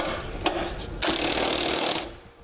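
Trailer hitch bolts are snugged down on a 2012 BMW X6 with a power tool, giving a short ratcheting burst, a brief pause, then a steady buzzing run of about a second that fades out, close up.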